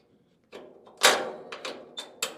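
The spread gate on a dump trailer is pulled back and latched, giving a series of sharp metallic clanks and knocks, one louder bang followed by several lighter clicks close by.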